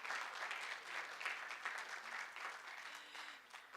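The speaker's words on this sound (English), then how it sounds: "May we have a collaborative round of applause for all of these students and our teachers?" A room at a school board meeting gives a round of applause for students and teachers, steady clapping from many hands heard at a moderate distance, fairly quiet overall.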